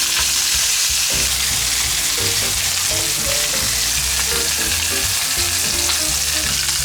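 Pork for Japanese chashu sears in a frying pan as it is turned to brown each side, giving a loud, steady, crackling sizzle that runs unbroken from start to finish with no talking.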